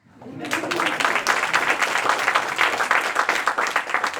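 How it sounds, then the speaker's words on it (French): Steady audience applause from a lecture-hall crowd at a French public talk, dense and sustained after a quick start, with no speech over it. "mais on peut l'applaudir"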